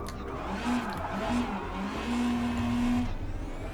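A rally car's engine in the WRC Generations racing game drones and revs under throttle. The pitch rises and falls steadily with no talk over it.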